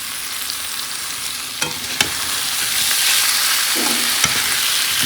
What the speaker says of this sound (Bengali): আলুটা ভালো করে মশলার সঙ্গে কষিয়ে নিচ্ছি